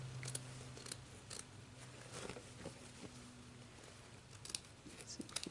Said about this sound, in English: you're going to first cut away your cutaway stabilizer.